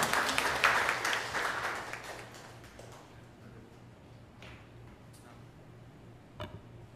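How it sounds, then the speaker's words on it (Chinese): Congregation applause at a Taiwanese-language Sunday church service, a dense burst of clapping at the start that thins and fades over several seconds, leaving faint scattered claps. "我们用鼓掌然后为他加油"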